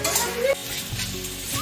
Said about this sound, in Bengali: ও মা আদা রসুন দেই তো ভাজা।